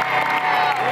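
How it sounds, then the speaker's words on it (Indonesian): Studio crowd on the Indonesian TV dating show Take Me Out Indonesia bursts into loud, dense applause and cheering, filling a brief moment. "Boleh kita berikan tepuk tangan terlebih dahulu untuk seorang"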